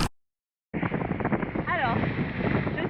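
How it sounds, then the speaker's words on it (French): Gusty, irregular wind buffeting the microphone at a freshwater river launch spot, a steady loud rush after a brief silent gap, with a voice talking over it. "le vent est super irrégulier"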